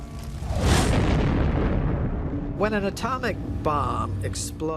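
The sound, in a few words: nuclear bomb explosion sound effect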